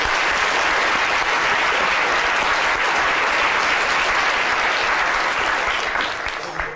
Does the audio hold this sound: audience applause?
yes